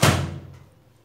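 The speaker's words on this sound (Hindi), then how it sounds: "ओवन बंद कर देंगे" A single solid thud of a microwave oven door shutting close by, ringing briefly before fading into quiet.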